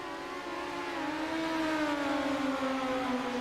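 SoDiRT SMART Midget race cars at Knoxville on a dirt oval, with a loud, sustained engine drone that rises gradually as the cars accelerate under the green flag.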